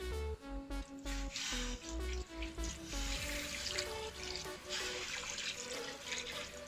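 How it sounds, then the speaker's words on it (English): Water runs steadily and splashes into a cooking pot for several seconds while making okra pepper soup, close by, with clinking and a faint tonal hum underneath. "Then I'll add some water."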